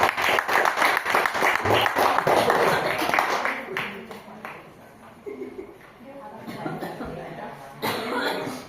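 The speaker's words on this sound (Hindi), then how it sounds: "एक बार जोरदार ताली से" A crowd claps loudly and densely for a few seconds before the applause thins out, with voices and a cough mixed in.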